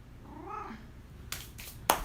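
A house cat meows once in a short rising-falling call, followed by a few sharp knocks or taps close by, in a quiet room.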